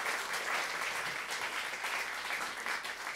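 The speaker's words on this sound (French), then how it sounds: "applaudissements s'il vous plaît, on va montrer l'ambiance" A studio audience at a Swiss comedy talent show claps loudly and continuously, a dense, even burst of applause filling the room throughout.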